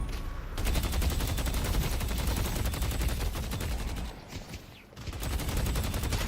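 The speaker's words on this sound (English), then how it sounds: "Okay, we've got a full auto weapon, baby." Sustained full-auto weapon fire from the shooter game Deadlock, a rapid unbroken stream of shots that briefly pauses near the end before resuming, loud and close.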